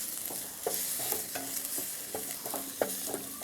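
Curry leaves and spices sauté in a pan with a soft steady sizzle, punctuated by repeated scraping stirs of a spoon at an irregular rhythm, close and moderately quiet.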